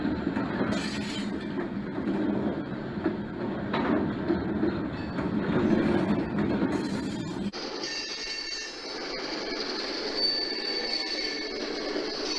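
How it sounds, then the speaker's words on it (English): A model railroad freight train led by GP30 and F7B locomotives rolls past on a home layout, with a steady rumble and rail clatter for several seconds before the sound shifts to a quieter, higher-pitched tone, with no talking. "Penn Central Extra 2228 with a GP30 F7B consist rolls by with a mixed freight."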